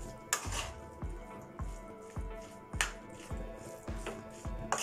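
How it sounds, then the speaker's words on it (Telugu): Egg noodles with sauces are tossed in a pan over a high flame, giving a regular rhythm of metallic scrapes and taps about twice a second over a soft sizzle. "నూడిల్స్ మెత్తగా అయిపోకుండా చిన్నగా తిప్పుకుంటూ మిక్స్ చేసుకోవాలి"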